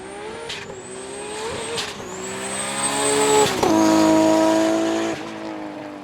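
A Nissan Skyline R32 tears past on a handling course, engine note rising and revving hard as it approaches, then dropping in pitch as it passes close by, with brief tire squeal at the start.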